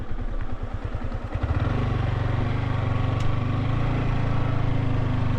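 A Yamaha R15 sport motorcycle rides rough off-road terrain between Ooty and Gudalur, its engine chugging in rapid pulses before settling into a steady, loud drone, close to the rider.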